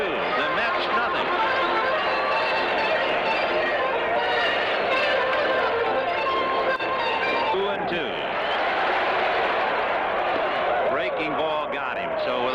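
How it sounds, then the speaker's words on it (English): Baseball stadium crowd at a Red Sox–Mets game, cheering and murmuring to spur on pitcher Ojeda, a dense continuous roar of many voices with scattered claps, steady and broad throughout. "The crowd trying to spur him on now"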